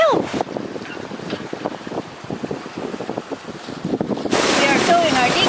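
Sailboat under way in the wind off Ibiza towing a dinghy, with rushing wind and water, irregular rustles and knocks, and a louder burst of wind noise buffeting the microphone near the end.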